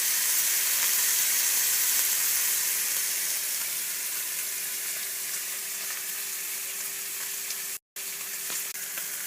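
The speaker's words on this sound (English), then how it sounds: "give it one more flip and get that other side nice and seared up" A steak sears in a hot pan, giving a steady, loud, close sizzle and hiss for the whole stretch, with one brief dropout near the end, probably as it is flipped.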